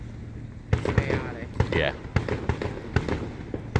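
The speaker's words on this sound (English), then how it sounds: "I'm hoping that that's the fireworks from the stadium" Fireworks go off at a stadium, seen from a distance, with a string of sharp bangs and booms at irregular intervals while people talk over them.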